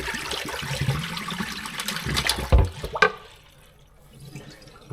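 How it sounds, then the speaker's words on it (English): Soaking water is poured off a bowl of pistachio shells toward a drain. It gushes and splashes steadily for about three seconds, then thins to a brief trickle and near quiet. "what I like to do is just pour the top of the water off."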